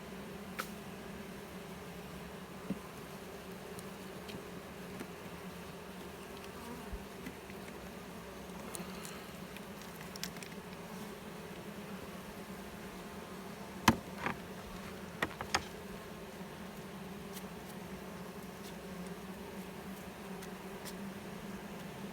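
Bees buzz in a steady, continuous drone while honey is cut from a log hive, with a few faint clicks and knocks scattered over a long stretch.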